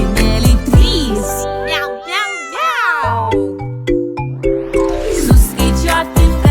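Cartoon cat meows woven into a bright children's counting song, sung meows and chiming tones alongside a child-like singing voice, playful and clearly up front.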